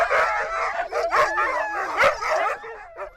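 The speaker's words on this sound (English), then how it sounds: "teaching him how to feed the ravenous dogs" Hungry sled dogs in the Arctic howl and yip together before feeding, a close chorus of overlapping wavering cries rising and falling with sharp yelps mixed in.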